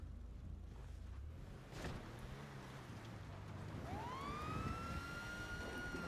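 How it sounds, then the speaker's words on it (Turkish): A police car siren in a Turkish zombie-mode roleplay game, with a wail rising and sustaining in the second half over a low rumbling background, growing louder toward the end. "Polis arabası"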